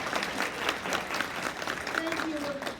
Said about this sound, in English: how about a round of applause to welcome them